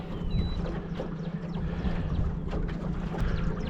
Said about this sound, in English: look at this trolling motor. Freaking killing it. It's full throttle and it is ripping.